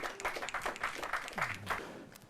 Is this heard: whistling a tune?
no